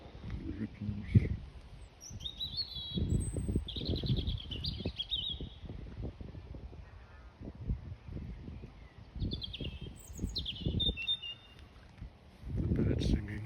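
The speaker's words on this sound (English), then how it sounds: "The birds singing" Birds chirp and whistle in short bursts by the River Thames at Port Meadow, Oxford, near a bridge and marina, mixed with rustling and low muffled sounds close to the microphone.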